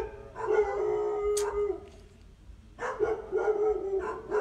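A dog howls in drawn-out, wavering cries, first in one long howl and then, after a short pause, in a run of shorter howling yelps, fairly close and with no talk over it.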